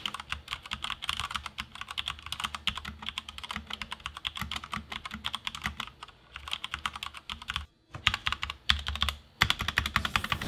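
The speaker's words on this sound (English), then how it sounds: "From the sound test, you can hear that those Cherry MX Reds are really crisp and really had a nice feel." Typing on a Durgod K320 keyboard with Cherry MX Red switches, a steady stream of fast crisp keystrokes that breaks off briefly twice, close and alone with no talk.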